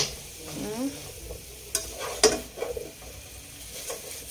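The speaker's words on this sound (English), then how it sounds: "I'm cooking beef and some rice." Beef fries in a pan on a home kitchen stove, a soft continuous sizzle broken by several scraping stirs and a few sharp clinks of utensil against the pan.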